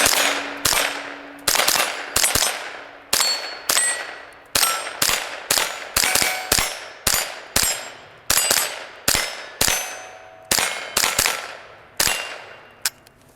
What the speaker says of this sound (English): The 1022 is a fun gun to shoot.